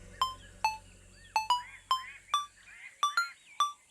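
A phone ringing with a series of sharp, bright electronic chirps in an uneven rhythm, about nine short tones, fairly faint, over a low background hum that cuts out partway through.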